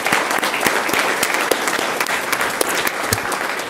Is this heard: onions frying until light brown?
no